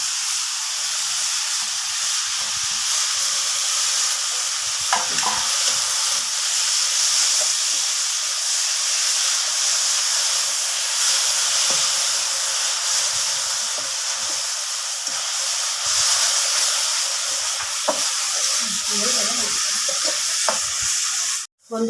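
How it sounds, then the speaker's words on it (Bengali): Grated cauliflower cooking in ghee in a wok, a loud, steady hissing sizzle with faint stirring scrapes underneath, continuous and close, with no talking. "তো সেই ফুলকপিগুলো আমি দিয়ে দিচ্ছি।"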